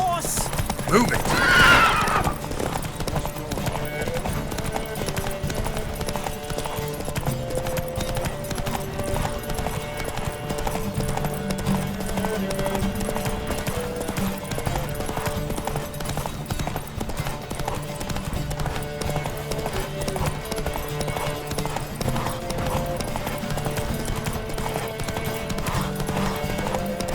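Horses gallop in a race in The Witcher 3, a rapid, continuous clatter of hooves, with a whinny near the start and a constant busy rumble throughout.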